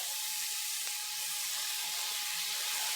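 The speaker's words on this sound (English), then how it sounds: "I want to brown my butter" Half a stick of butter melting and browning in hot bacon grease in a pan, a steady soft sizzle and crackle running continuously at moderate level with no talking.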